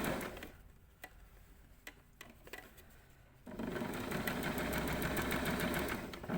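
A sewing machine on a camisole seam is turned slowly by its hand wheel past a pin, giving sparse soft ticks and clicks, then a denser, louder run of steady mechanical stitching close by.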